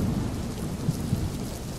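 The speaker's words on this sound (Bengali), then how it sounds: "এই বৃষ্টি তো থামার নামই নিচ্ছে না" Steady rain hisses across the whole stretch in a cartoon scene, with low thunder rumbling underneath and a couple of soft bumps, close and even throughout.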